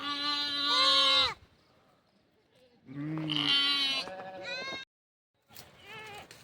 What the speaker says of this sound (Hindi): एक दूसरा मेमना जो है वो अपनी माँ को ढूंढ रहा है और पुकार भी रहा है कि आप कहाँ हो